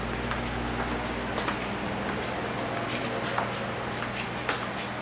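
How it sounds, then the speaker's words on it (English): Electric fan running in a warm car workshop, a steady close whirring drone with a constant low hum and faint ticking flutter, no voices over it. "Excuse the fan, but it's a little warm in here."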